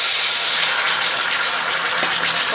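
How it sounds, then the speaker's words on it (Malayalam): Water pours into a heated steel vessel set up for melting jaggery, a loud continuous hissing gush with steam sizzle that fills the whole moment, with no voices. "അതിലേക്ക് ഇത്തിരി വെള്ളം ഒഴിച്ചെടുക്കാം"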